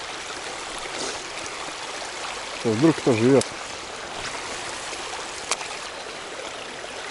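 A taiga river flows with a steady, close broadband rush of water, and a voice speaks briefly partway through.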